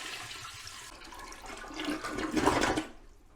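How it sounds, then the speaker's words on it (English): Toilet flushing before a bidet install, a rushing swirl of water that swells to a loud peak near the end and then drains away, close by with no talk. "So then what we do is we flush the toilet."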